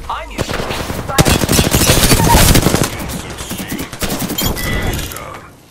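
Close, loud automatic gunfire in the battle royale video game Apex Legends, a long rattling burst followed by shorter volleys and scattered shots, with game effects in between.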